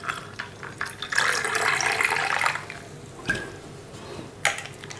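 Water poured into a raw mango (keri) sharbat drink, a splashing fill lasting about two seconds, close and fairly loud, followed by a few brief drips and splashes.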